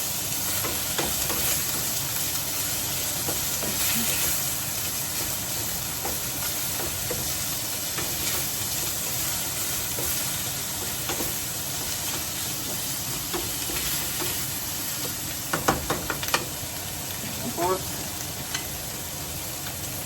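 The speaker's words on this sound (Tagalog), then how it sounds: "So halo na natin itong ating rotisserie chicken ngayon." Rotisserie chicken stirred into pansit lomi in a hot pan, a steady sizzling hiss running throughout with occasional scraping stir clinks near the end.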